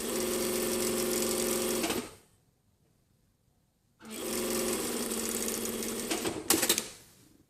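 A sewing machine stitches a jacket lining side panel in two close, steady runs of rapid mechanical whirring, separated by a pause of about two seconds, with a few louder clunks near the end of the second run.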